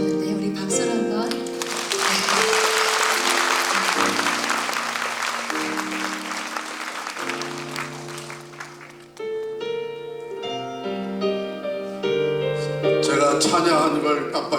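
Congregation applauding at a Korean church prayer meeting, broadband clapping swelling from about one second and fading near nine seconds, layered over sustained organ or keyboard chords that continue to the end.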